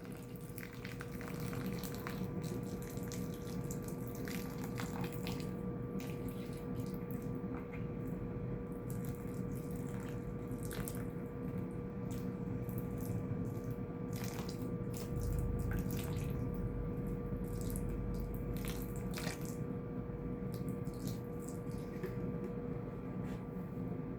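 Tap water runs steadily into a pan for rooting a ficus tree cutting, a continuous rushing stream with a brief deeper gush partway through, close and alone without talk.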